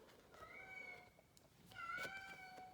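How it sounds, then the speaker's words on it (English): A cat meows twice, long drawn-out cries with a short pause between, close but fairly quiet. "sorry, that's my cat, and she's gonna have to stay outside."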